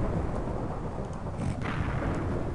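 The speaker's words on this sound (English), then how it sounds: "It's lightning" Deep, rumbling thunder from a lightning strike in Minecraft, a broad continuous roar filling the whole clip with a steady loud rumble and no speech.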